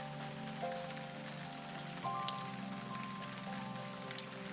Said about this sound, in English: I love to journal to the sound of rain, even if it is fake